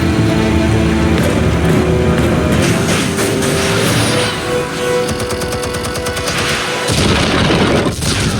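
Explosives detonate in the Batman: The Telltale Series video game, a loud booming blast with crashing debris and rumbling that swells, fades briefly, then surges again near the end.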